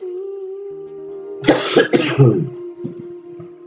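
A woman with an allergy coughs in a couple of harsh, close bursts with some throat clearing, set against a steady tonal hum before and after.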